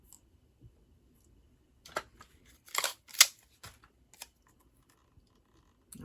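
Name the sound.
cutting out a paper card piece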